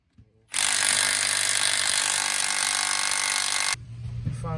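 A power tool buzzes loudly for about three seconds while removing a stuck, thread-locked axle bolt on a 2014 Volkswagen GLI, starting and stopping abruptly with quieter workshop noise around it.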